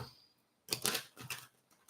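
Tarot cards being shuffled, heard as quiet crisp riffling bursts after a brief near-silence, in two or three quick flurries close to the listener.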